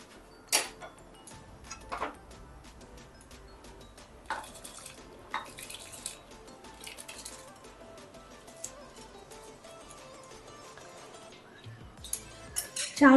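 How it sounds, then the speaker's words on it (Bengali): Rice is tipped into a pot of half-cooked lentils for egg khichuri, giving a few sharp clinks and rattles near the start and end over a faint steady background hiss. "এই পর্যায়ে আমি চালটা দিয়ে দিচ্ছি।"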